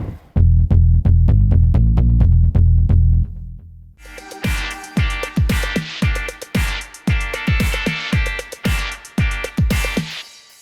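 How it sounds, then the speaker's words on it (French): Intro jingle for a cycling piece on the SRAM Red eTap wireless groupset: a loud run of repeated bass-heavy musical stabs, a short pause, then a brighter rhythmic pattern of punchy hits and tones. "Allez, jingle!"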